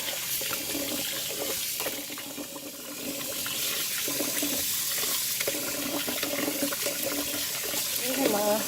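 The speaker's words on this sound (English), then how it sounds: "I put water on it." Water running and splashing as it is poured over cassava leaves in a basin for washing, a steady broadband wash with a few brief louder splashes and no talk.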